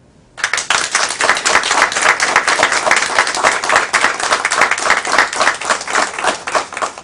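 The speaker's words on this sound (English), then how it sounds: "Wild applause follows." Wild, dense applause erupts after a speech at an evening scholarship award announcement, starting abruptly and continuing steadily loud from a sizable crowd.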